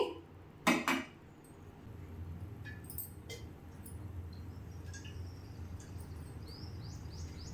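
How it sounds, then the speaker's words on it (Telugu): A metal pot set down on the stove for tempering gives a sharp double clank near the start, followed by faint scattered clinks over a low background hum, with soft bird chirps in the distance. "ఇప్పుడు తాలింపుకి ఒక గిన్నె పెట్టుకుందామండి"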